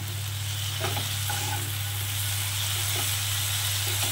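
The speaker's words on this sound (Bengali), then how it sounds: "মিনিট 5 ধরে এটাকে ভালো করে আমি ভাজা ভাজা করব।" Parboiled kachur lati (taro stolons) fry in a pan with a constant bright sizzle and occasional scraping stirs, over a steady low mechanical hum, with no talk.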